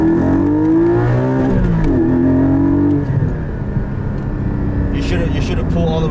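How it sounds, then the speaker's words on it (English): A 2020 Porsche 718 GT4 sports car accelerates hard, its engine climbing in pitch through the revs before a gear change, loud and close from inside the cabin, with people talking over it. "One more quick acceleration."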